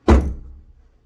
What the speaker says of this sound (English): I'm going to test the door, make sure it shuts